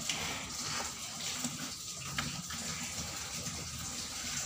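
Water gushes steadily from a tap into a bucket in a cattle shed, a continuous rushing fill sound heard up close without speech.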